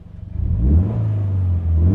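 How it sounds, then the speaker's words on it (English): A Scion FR-S with a Subaru boxer engine revs up from idle, the low drone climbing quickly and then holding as a steady, fairly loud engine note close by. "Let's see if I can rev it right now, if it can even pick up on the microphone"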